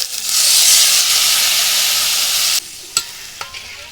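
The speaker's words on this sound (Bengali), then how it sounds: "এবার জল দিয়ে দেবো" Loud hissing sizzle as water hits spice paste frying in a pan for a fish curry with pumpkin stems, the sizzle cutting off suddenly and leaving a few faint clinks.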